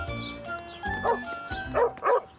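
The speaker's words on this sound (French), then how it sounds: "Caillou avait peur. Le chien avait l'air d'être en colère." A cartoon dog in a children's animated story barks several times, short loud bursts spaced irregularly, with a soft musical background underneath.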